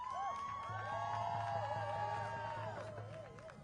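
Protest crowd outside the Democratic National Convention, a dense wash of many voices with whoops and rising shouts, steady and fairly close, under a low drone.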